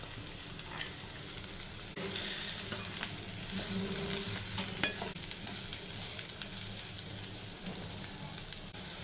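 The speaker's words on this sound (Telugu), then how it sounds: "క్యాబేజీ వేసాను." Shredded cabbage with ginger-garlic paste sizzles softly in a pan, a faint continuous frying hiss with occasional light stirring clatter, heard alone at low volume.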